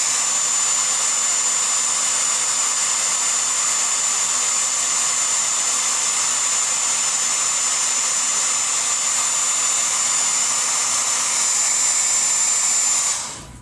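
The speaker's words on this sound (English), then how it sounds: "I've got a hairdryer that hangs within arm's reach right underneath my desk" A hair dryer blows steadily at close range with a constant whirring hiss for several seconds, then switches off abruptly at the end.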